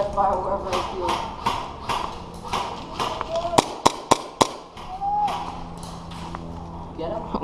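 An airsoft gun fires outdoors during a skirmish: four sharp, loud cracks snap in quick succession partway through, while players talk over steady background noise.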